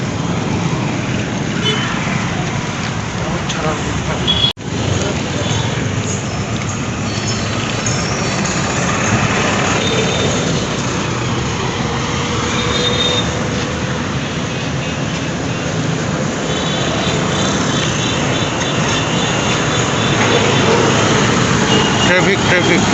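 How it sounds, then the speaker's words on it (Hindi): Road traffic engines on a crowded road while travelling in a vehicle, a steady loud rumble of motors and road noise running throughout, with someone talking over it. "ट्रैफिक।"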